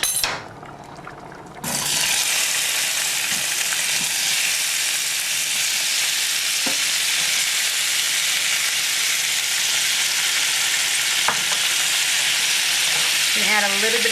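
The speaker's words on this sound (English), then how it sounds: "I'm going to add some olive oil to it, and we're going to caramelize our onions, our pearl onions that we have." Pearl onions sizzle steadily in olive oil in a pan after a quieter opening, with a constant close frying hiss and a few faint utensil clinks.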